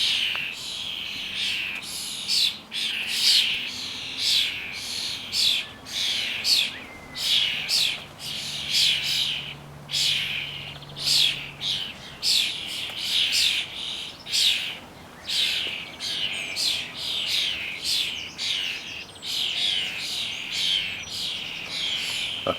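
Starlings squawk and chatter while raiding a garden bird feeder, a dense, continuous flock of harsh, rasping calls and whistles, loud and close, pulsing in bursts throughout.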